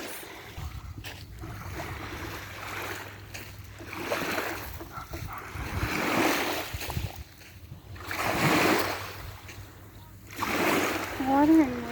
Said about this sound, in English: The water and waves are so beautiful.